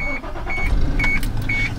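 A car engine restarting after diagnostic codes are cleared, a close, loud engine hum with a repeating electronic beep or chime at regular intervals over it.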